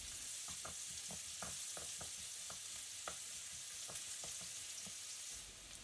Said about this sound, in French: Faites-les revenir à la poêle.